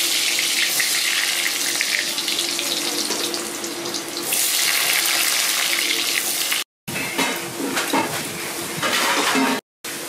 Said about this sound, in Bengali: আমি আলু পটলটা ভালো করে লাল করে ভেজে নেব।